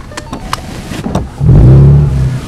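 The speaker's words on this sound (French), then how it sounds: "On entend tout de suite ce moteur" A 2016 Morgan Roadster with a 3.7-litre V6 pulls away, a few light clicks and short talk giving way to a loud, deep engine surge that swells and holds close by.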